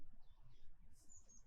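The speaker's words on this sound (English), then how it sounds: "As we listen to the birds." Faint, brief high chirps, a few short tweets near the end over a quiet, rustling background.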